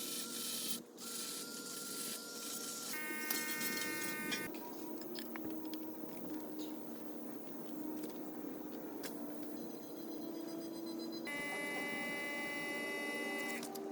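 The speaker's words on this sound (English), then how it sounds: "I'm gonna use this little nail filing grinding bit on all the rough burrs that I created and kind of get those a little bit smoother" A small nail-file grinding bit on a rotary tool smoothing rough metal burrs on a deck mount for a Ram Promaster 2500 van roof, a continuous close, high whining grind that shifts pitch as the load changes, with no talking.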